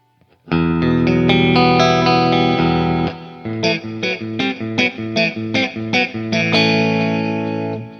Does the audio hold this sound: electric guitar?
yes